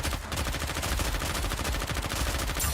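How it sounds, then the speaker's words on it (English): Rapid assault rifle fire in the mobile shooter Goddess of Victory: NIKKE, a dense unbroken stream of loud shots with a brief dip near the start. "She is not SMG, but machine gun. No, I mean assault rifle."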